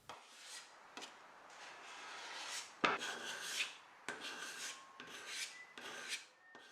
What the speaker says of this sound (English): They're great for finishing up a surface when you don't want to take away too much material.